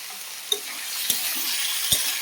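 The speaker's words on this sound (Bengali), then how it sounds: "এবার আলুটা আমি ভালো করে ভেজে নেব।" Potato frying in a pan, a steady close sizzle with a few sharp clicks of a utensil against the pan, loud and continuous, with no voices.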